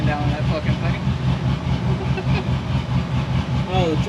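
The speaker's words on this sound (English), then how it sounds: "Sounds like Harley's Jeep with the one cylinder missing" A loud car engine runs rough as if missing a cylinder, with an uneven, pulsing idle rhythm that continues steadily throughout, close by, with some voices faintly in the background.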